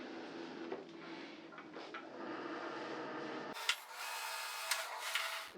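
A Cricut cutting machine draws a vinyl cutting mat inside, a steady low mechanical hum of rollers at close range that cuts to a higher whirring motor tone midway, with a few faint clicks.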